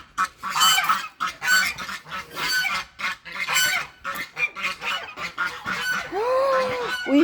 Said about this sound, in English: Got a broody goose.